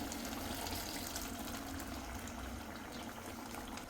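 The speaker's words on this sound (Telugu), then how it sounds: "ఇప్పుడైతే వాటర్ వేసేసుకుందాం" Water poured into a pot of curry gravy, a steady, dense rushing pour that continues evenly throughout with no talk.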